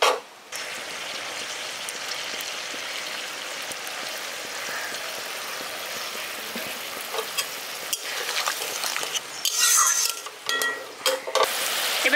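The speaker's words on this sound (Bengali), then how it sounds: "জলটা দিয়ে মশলাটার সঙ্গে ভালো করে মিশিয়ে দিয়েছি।" A spoon stirs spice paste and water in a pan for a village-style Rohu fish kalia, with a continuous scraping churn and soft sizzle that turns into sharper clinks and knocks against the pan near the end.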